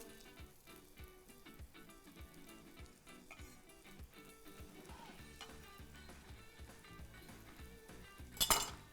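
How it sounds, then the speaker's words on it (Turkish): A wooden spoon gently turns rice and peppers in a hot pot, soft scraping and clinks over a faint sizzle, with a brief sharper clatter near the end. "Tahta kaşıkla bunların hepsini şöyle hafiften bir tur çeviriyoruz"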